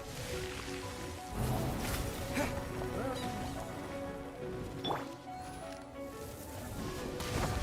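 Rain falls steadily in the video game Genshin Impact, a dense, even hiss that runs through the whole stretch with tonal game sounds layered on top.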